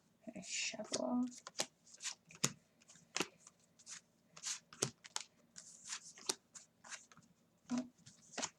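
Tarot cards are shuffled and riffled close by in quick bursts of crisp flapping and snapping, with brief pauses between runs.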